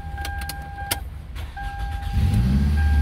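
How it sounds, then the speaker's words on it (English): A 2003-2004 Toyota Lexus is started after its engine computer is replaced: steady electronic chimes and a key click come first, then the engine cranks and settles into a loud, close low rumble. "Let me put the first key, start the car."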